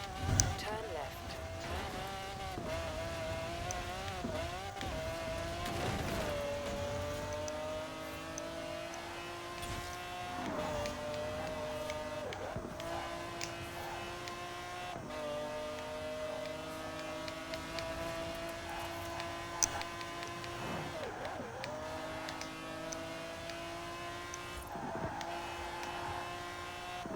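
Car engine from Forza Horizon 4 hums steadily with rising and falling gear-change sweeps as the car accelerates and shifts, continuous through the whole stretch, with speech and game voices over it.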